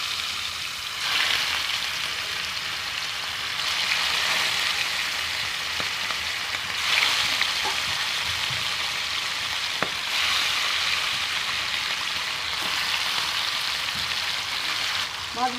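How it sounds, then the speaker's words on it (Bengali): Hilsa fish pieces dropped into hot oil with nigella seeds hiss in a steady, close, broad sizzle that swells in a few surges and runs on without pause, with no talk. "কালো জিরেটা হয়ে গেছে। এবার আমি মাছ দিয়ে দিচ্ছি।"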